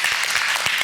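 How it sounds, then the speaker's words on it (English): A short burst of dense, continuous clapping from an audience thanking Dr. Joel Neal after a talk on precision medicine and immunotherapy. "Give him a huge round of applause."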